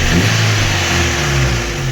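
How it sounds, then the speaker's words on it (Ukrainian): Daewoo Lanos 1.5 engine running after a cylinder head repair, a loud, smooth and even hum with a steady low drone throughout, heard close up and with no one speaking. "Моторчик просто шепче."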